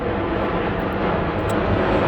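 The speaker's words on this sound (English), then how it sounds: "Sorry about the plane going by there." A plane passes overhead as a steady, broad roar of engine noise that holds at a constant, fairly loud level throughout, with nothing else audible.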